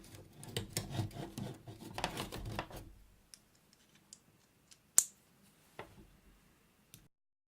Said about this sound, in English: Pull out my handy dandy little miniature screwdriver set